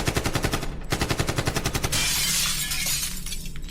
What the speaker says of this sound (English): The gunfire was deafening, reverberating through the apartment.